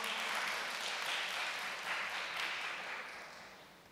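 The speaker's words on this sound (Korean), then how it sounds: "박수 부탁드리겠습니다" An indoor audience at a youth gathering claps as a dense, steady wash of applause that slowly fades toward the end.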